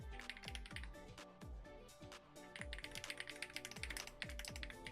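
A clicky mechanical computer keyboard is typed on up close in a rapid, irregular stream of sharp clacks and taps, with occasional brief pauses between bursts and no talk.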